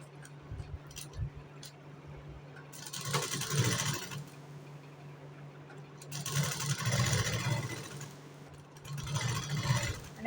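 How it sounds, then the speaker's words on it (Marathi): A sewing machine stitches the side seams of a blouse in three separate bursts of close mechanical whirring, with quiet pauses between the runs. "दोन्ही साईडला पण शिलाई मारून घेत आहे"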